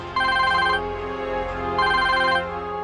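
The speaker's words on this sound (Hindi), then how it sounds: "उनका फोन बस आता ही होगा" A telephone rings in two electronic trilling bursts, loud and close, with a steady tone between them and no voices.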